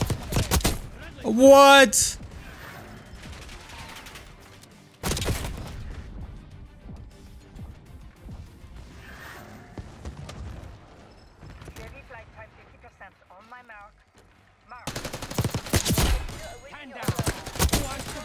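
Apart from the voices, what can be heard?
gunfire from a gun in the video game Black Ops 6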